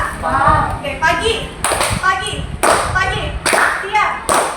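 Children clap their hands in a counting game during a group counseling session, sharp bursts of claps in short sets separated by pauses, with a voice calling out between them.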